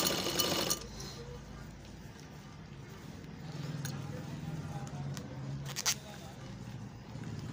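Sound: sewing machine stitching edge of double-layer cloth

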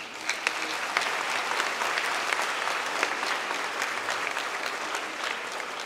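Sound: congregation applause for the music group at mass

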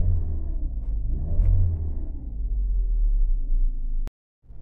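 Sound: car engine revving with faulty crankshaft position sensor

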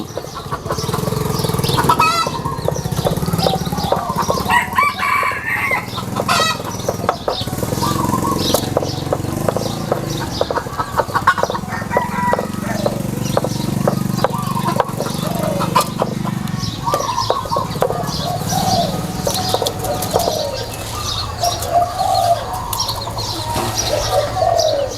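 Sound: junglefowl roosters crowing and clucking

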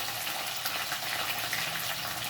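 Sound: mint and curry leaves sizzling in frying pan

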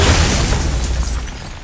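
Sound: crystal shot and shattering in God of War video game

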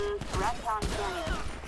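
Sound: gunfire shooting at player in video game GTA V LSPDFR

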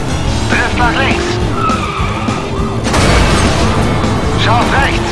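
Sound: car drifting with skidding tires in video game Stuntman Ignition

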